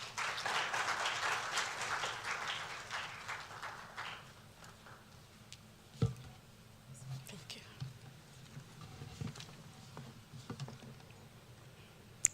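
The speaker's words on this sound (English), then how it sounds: "A round of applause, please." An audience at a security chiefs' swearing-in ceremony in Ghana gives a round of applause that lasts about four seconds, moderately distant, then dies away into quiet room murmur with a few scattered knocks.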